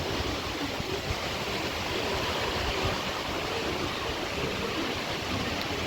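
A steady, loud roar of heavy rain driven by wind, continuous and unbroken throughout, with no voices.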